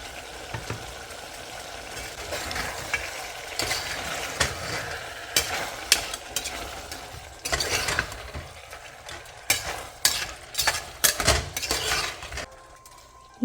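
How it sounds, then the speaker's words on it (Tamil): Mutton stirred in a pan while it fries for mutton sukka, with a steady sizzle under repeated scraping and clattering strikes of a spoon against the pan, some sharp and close. "இது நல்லா கிளறி விட்டுக்கலாம்"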